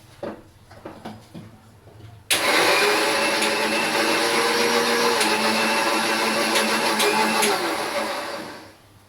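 An electric grinder blends ginger, garlic and onion into a paste, starting abruptly after a few quiet kitchen clatters and then whirring loud and steady for about six seconds before winding down.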